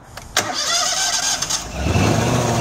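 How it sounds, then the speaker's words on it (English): A cold 2014 Amtex Inferno 3047 Eruption engine cranks with its choke half-open, sputtering through a few rough attempts before catching and settling into a steady, close, loud running idle. "So we're gonna go ahead and start it."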